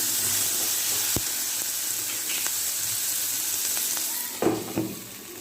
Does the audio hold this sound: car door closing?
no